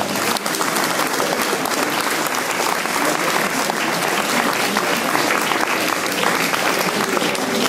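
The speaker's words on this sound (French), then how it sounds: "Applaudissez-les, ils méritent." Audience applause for performers in pink blouses at a show in Isle: dense, sustained clapping, loud and steady for nearly eight seconds without a break.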